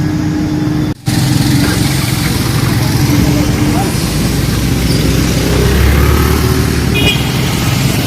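A repaired Honda Activa scooter runs with a steady, loud, close engine drone that cuts out for a moment near the start, then carries on evenly with slight rises in pitch.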